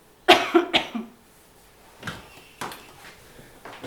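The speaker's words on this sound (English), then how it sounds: "I have a sore throat and a cough." Three quick, harsh coughs from a person with a sore throat come close and loud at the start, followed by several softer breathy coughs and throat sounds.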